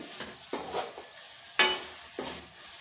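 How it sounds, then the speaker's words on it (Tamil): Green chillies sautéed with salt in a pan give soft intermittent sizzling broken by a few distinct stirring scrapes, close and moderately quiet, with no talking. "உப்பு போட்டு நல்லா வதக்கிக்கோங்க. மிளகாய் நல்லா வெந்துடுச்சு."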